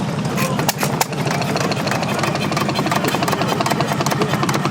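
An antique engine runs at a small private engine and tractor show, a steady, close mechanical chugging with rapid ticking clatter, loud and continuous throughout, with people talking nearby.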